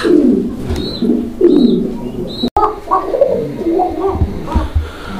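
Pigeons in a show cage coo repeatedly in low throaty bursts, close and loud, with faint chirps and someone talking over them.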